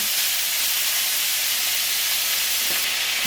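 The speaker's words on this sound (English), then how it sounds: "just gonna let it saute for about 20 seconds just to start cooking the carrots" Carrots sauté in a hot pan, producing a continuous, even sizzling hiss at moderate volume with no talking.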